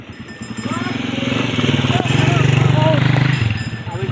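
A motorcycle engine runs steadily close by during a family trip in Cebu, its low rumble building and holding loud for several seconds under outdoor noise.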